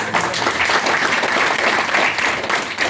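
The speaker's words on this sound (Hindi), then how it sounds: "एक बार ताली जरूर बजाएं यार" Audience at a network marketing talk clapping on request, loud, dense, sustained applause from many hands, steady for the whole stretch with no voices over it.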